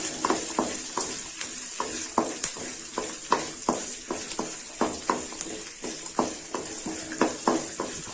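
Garlic and small onions sauté in a pan, a steady sizzle punctuated by frequent rhythmic scrapes of a spoon stirring, close and moderately loud with no speech.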